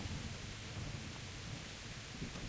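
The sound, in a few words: heavy rain in video game Kingdom Come: Deliverance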